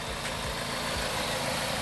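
The engine of a 2001 Toyota Altis 1.8 G automatic car idles steadily. It gives a continuous low rumble with a broad hiss, close and even, with no talking over it.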